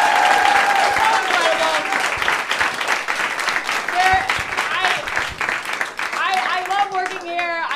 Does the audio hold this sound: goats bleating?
no